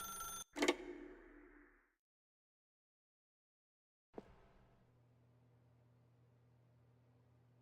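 A telephone in The Stanley Parable gives a short loud ring near the start and then falls silent, with a fainter click and a low hum a few seconds later.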